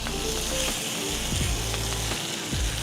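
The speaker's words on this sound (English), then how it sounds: "Add a little bit more oil here, right? And now we're gonna come with this Cajun turkey, check it out." Cajun turkey sizzles in hot oil on a Blaze griddle, a steady loud frying hiss with a few scraping clicks of a spatula, no voices.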